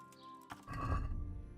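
A horse whinnies in the medieval game Kingdom Come: Deliverance, a short neigh that swells near and loud after a brief quieter lead-in, with no talk over it.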